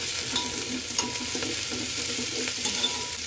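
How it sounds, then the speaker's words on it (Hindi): Whole red chilies, black peppercorns, mustard seeds and cumin are dry-roasted and stirred in a pan, with a soft, continuous sizzle and faint scraping. No speech is heard. "साबुत लाल मिर्च, काली मिर्च, ये मस्टर्ड सीड, साथ ये हमने जीरा, सबको अच्छे से रोस्ट कर लेंगे।"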